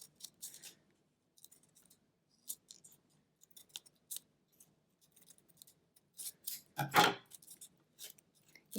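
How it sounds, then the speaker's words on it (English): Scissors snip paper while cutting out a Halloween garland, with sparse, irregular quiet cuts and brief pauses, ending in a louder rustle of paper near the close. "Take your time cutting it out."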